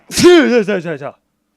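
A single person sneezes loudly and close up, a sharp onset followed by a voiced, trailing exhale that breaks into short stuttering bursts before cutting to silence.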